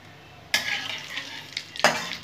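Radhuni seeds and a dry red chilli hit hot oil with a sudden loud sizzle, followed by a second burst of crackling frying, close and alone with no talk.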